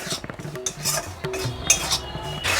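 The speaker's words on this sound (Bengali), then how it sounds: "হাফ বাটি ময়দা আমি একটু শুকনো খোলায় ভেজে নেব একটু নাড়াচাড়া করে নেব" Utensil scraping and clinking against a dry pan as half a bowl of flour is dry-roasted without oil and stirred; short irregular metallic scrapes and taps, close and moderately loud, with no talking.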